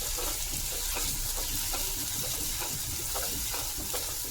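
Onion frying in a pan for a Malvani kalva recipe, a steady dense sizzle with faint stirring scrapes, close and constant with no talking.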